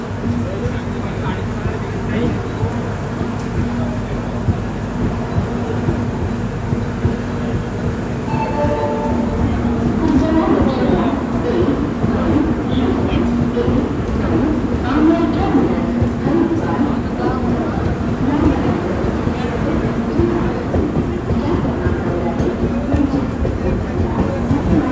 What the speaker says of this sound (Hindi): फाइनली बोरीवली रेलवे स्टेशन से भी हमारी ट्रेन का डिपार्चर हो चुका है।